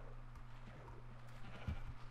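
A single sheep bleating in Minecraft, quiet and brief over a low steady hum, with no talk.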